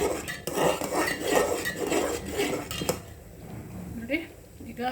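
Ragi porridge being stirred in a pot on the stove: a dense, scraping, clattering stir runs for the first three seconds, then eases into softer intermittent scrapes and light knocks, with speech heard alongside.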